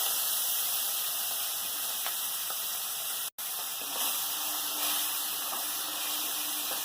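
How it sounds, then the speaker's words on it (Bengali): Crabs coated in salt and turmeric fry in hot mustard oil, giving a steady, loud hissing sizzle that runs without a break apart from one sharp momentary cutout midway. "নুন হলুদ মেখে রাখা কাঁকড়াগুলো তেলের মধ্যে দিয়ে দেবো।"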